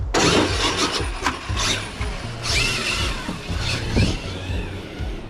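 A Traxxas XMaxx RC truck with a new 1650 kV motor on 8S power whines loudly and close, its motor pitch surging and dropping in repeated throttle bursts over rough rolling noise.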